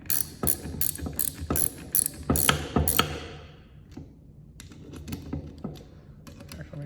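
A ratchet wrench snugs up bolts on an engine valve train during valve, camshaft and lifter installation, giving a run of sharp, close clicking bursts for about three seconds, then softer, sparser clicks and taps.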